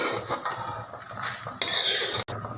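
Roasted spices for a curry-leaf kuzhambu being scraped from a kadai onto a plate, giving steady metallic scraping and clinking of a spatula against the pan, close and continuous, with no talking.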